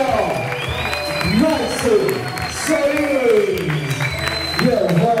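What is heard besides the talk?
audience applause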